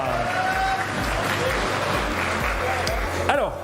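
Audience applause at the Coupe de France de Robotique 2020 finals, a steady clapping crowd in a hall with voices and a rhythmic thumping beat underneath.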